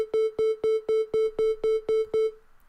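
Synth arpeggiator repeating a single note in eighth notes with a short gate: nine evenly spaced, clipped tonal pulses at a steady tempo, bright and up close, with no voices.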